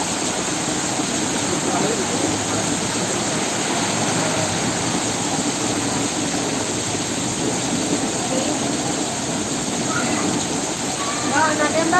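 Heavy rain with strong wind in Cipondoh, Tangerang, a dense, loud, unbroken hiss of downpour with a steady roar beneath and no pauses.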